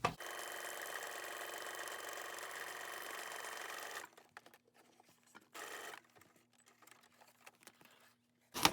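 A sewing machine stitches down the middle of a magazine signature, a steady close whir for about four seconds, then stopping, with a short second burst of stitching and a few quiet clicks and handling noises.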